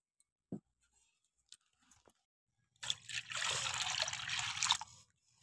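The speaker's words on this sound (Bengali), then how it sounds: "তো আবার আমি এর মধ্যে 1 মগ জল দিয়ে দেবো।" A mug of water poured into a container while making cornflour from potatoes: a few faint knocks, then a close, splashing pour lasting about two seconds before it stops.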